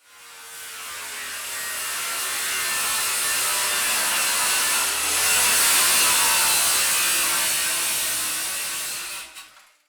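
A power saw fitted with a Diablo Demon framing/demolition blade cuts through a wooden butcher block countertop, one loud continuous cut lasting nearly ten seconds, close and steady before stopping abruptly.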